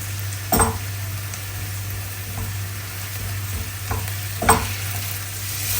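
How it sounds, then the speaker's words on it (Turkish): Onions and tomato paste frying in a pan: a steady, close sizzle with a couple of louder scraping stirs and a few softer ones punctuating it, over a constant low hum. "Bir yemek kaşığı salçamı da koyuyorum. Onu da salçanın kokusu çıkıncaya kadar kavuracağım."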